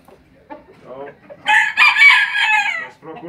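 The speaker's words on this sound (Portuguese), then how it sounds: "O galo, foca no galo, Serginho, foca no galo." A rooster moulting out of its feathers crows once loudly and close, a drawn-out cock-a-doodle-doo after some softer clucks and murmuring talk.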